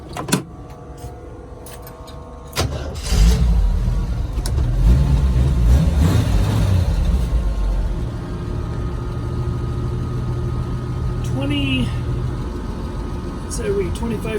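A 1983 Jeep CJ7 engine cranks and fires after a few quiet clicks, then settles into a loud rough idle with light revving, close by, while a person talks over it.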